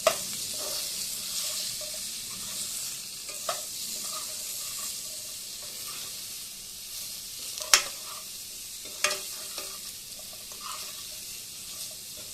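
Sliced brinjal with onion and spices fries in a pan, giving a faint continuous sizzle broken by scattered scrapes and knocks of a spatula mixing it, with no speech.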